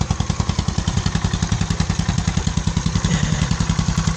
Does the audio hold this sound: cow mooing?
no